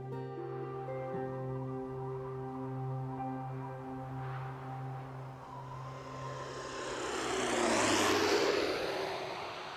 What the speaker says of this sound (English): My plane touches down on a 4-mile-long windswept strip of land known as Barter Island